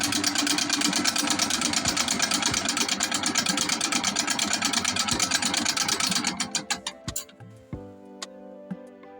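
An industrial cake and bread mixer running at its highest speed gives a loud, dense, rapidly pulsing mechanical whir for about six seconds, then winds down through slowing thumps into a faint residual hum.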